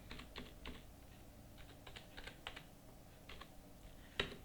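Fingers tap on a computer keyboard in quick bursts of clicky keystrokes, close and fairly quiet, with a sharper final key press near the end.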